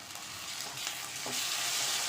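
Fish curry with yogurt and cashew paste being stirred in a pan, a soft, continuous scraping and bubbling sizzle that grows slightly louder near the end, with no voices.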